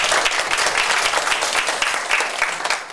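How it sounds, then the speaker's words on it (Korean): A forum audience on social welfare service delivery gives warm applause to a professor, dense continuous clapping from many hands, fairly loud and close, filling the whole stretch without speech. "좋은 말씀 주신 우리 박경수 교수님에게 다시 한번 뜨거운 박수 부탁드립니다"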